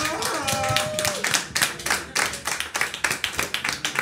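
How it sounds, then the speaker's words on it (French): A radio studio audience claps to welcome a guest, a burst of clapping over lingering speech that thins into a few distinct, rhythmic hand claps toward the end. "Je vous demande tous les applaudissements."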